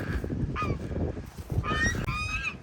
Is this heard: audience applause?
no